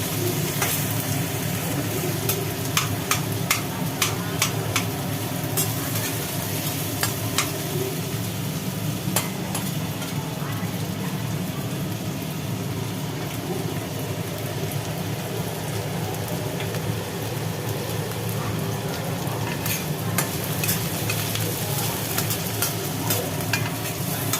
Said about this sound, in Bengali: পেঁয়াজ আলুটা একটু ভাজি হোক